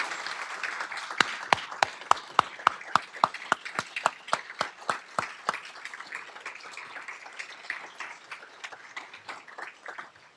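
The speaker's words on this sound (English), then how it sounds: "give them a round of applause" A luncheon audience applauds members of One Hope United after being asked to stand, starting with sharp, distinct claps that swell into a dense, steady patter and slowly thin out.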